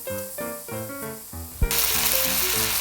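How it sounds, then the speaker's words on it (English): Chopped kimchi and cooked meat stir-frying for kimchi fried rice: a sudden loud, steady sizzle and hiss breaks in partway through, close up, over soft music that plays throughout. "And stir fry chopped kimchi with cooked"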